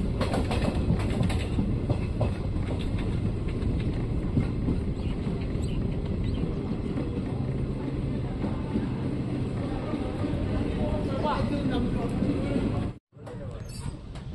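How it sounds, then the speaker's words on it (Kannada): Train rumbling into Channapatna railway station during renovation works, a dense continuous roar of wheels and carriage noise heard from on board for most of the stretch before a sudden brief drop near the end. "ನಮ್ಮ ಟ್ರೈನ್ ಈಗ ಚನ್ನಪಟ್ಟಣ ರೈಲ್ವೆ ಸ್ಟೇಷನ್ಗೆ ಎಂಟ್ರಿ ಆಗ್ತಿದೆ"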